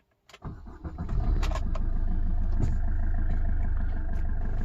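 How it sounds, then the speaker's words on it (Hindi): A 2019 Maruti Suzuki Swift VDI AMT diesel cranks briefly and fires, then settles into a steady, even idle heard up close from inside the cabin, with no talking. "मैं इंजन स्टार्ट करता हूँ।"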